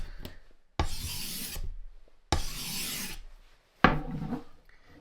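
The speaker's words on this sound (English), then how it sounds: "lay it flat on your stone, and we're going to do some flat passes on the opposite side" A fleshing knife is drawn flat across a sharpening stone in three long, even rasping strokes separated by brief pauses, close and distinct, with no talking.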